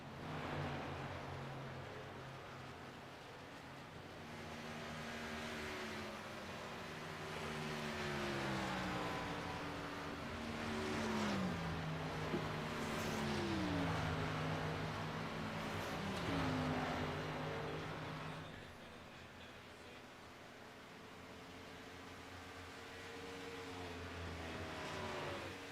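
Race cars in an iRacing event at Darlington drone steadily, with engine pitch rising and falling through repeated shifts and several sweeping pitch changes as cars lap the track, continuous and moderately loud with no talk.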